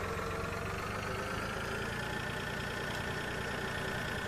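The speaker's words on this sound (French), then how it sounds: "Donc je vais ranger mon tracteur." Tractor engine in the Farming Simulator 2013 game, a steady close idling rumble with a slight knocking chug, continuous and alone without speech.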